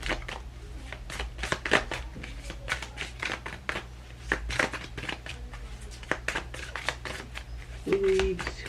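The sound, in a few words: shuffling a deck of reading cards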